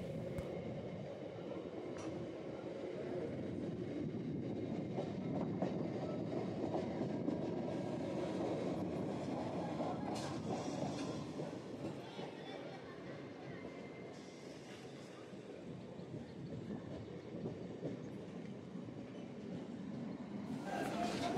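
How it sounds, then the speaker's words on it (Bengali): A Bardhaman local train rumbles past a platform nearby, its wheels clattering rhythmically on the rails in a steady roar that lasts about twenty seconds, slightly easing midway. "সামনে থেকে আসছে বর্ধমান লোকাল"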